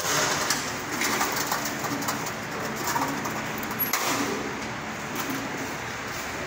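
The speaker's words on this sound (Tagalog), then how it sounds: "Dami ng ibon eh." Many birds, with racing pigeons cooing steadily, under a constant wash of outdoor noise and a faint engine hum, in Cabanatuan.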